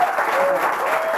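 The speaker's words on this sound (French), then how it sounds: "Et on peut s'applaudir, c'est formidable." Steady applause from a church congregation at a Pentecost service, a brief continuous wash of clapping with a faint tonal voice or sound gliding beneath it.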